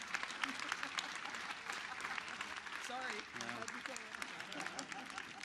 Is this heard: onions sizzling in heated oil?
no